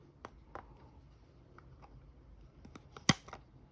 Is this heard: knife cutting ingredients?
no